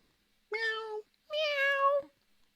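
A person imitates a cat with two drawn-out meows, one short and one longer, close and clear with a pause between them.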